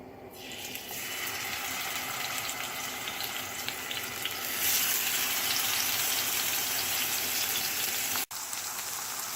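Fish with masala spices fries in a pan with a dense, rain-like crackling sizzle that swells louder partway through, then cuts out abruptly for an instant before resuming.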